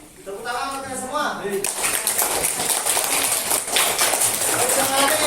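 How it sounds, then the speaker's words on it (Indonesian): Schoolchildren clap together in a primary-school classroom during an open lesson, a dense continuous burst of hand claps that swells and holds loudly to the end, with speech heard over the start. "tepuk tangan untuk kalian semua."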